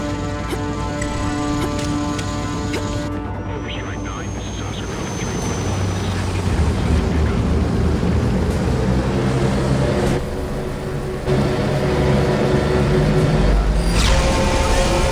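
A helicopter in the co-op shooter game Fuse keeps up a loud, steady droning whir with a humming engine tone throughout, with other gameplay noise layered over it.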